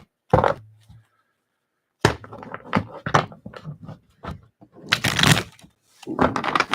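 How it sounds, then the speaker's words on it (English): A deck of tarot cards being shuffled during a reading, with short crisp riffling bursts separated by pauses, close and fairly quiet. "One more shuffle."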